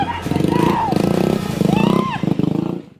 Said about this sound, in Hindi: जहां खुलेआम बाइक स्टंट हो रहा है